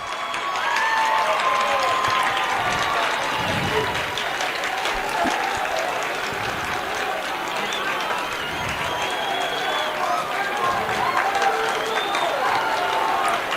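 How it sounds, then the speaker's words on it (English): A crowd cheering and applauding at a high school baseball game between Lehi and Riverton, a loud sustained roar of clapping and shouting that fills the scene, with an announcer talking underneath. "This Lehi crowd seems to be getting louder and louder and louder."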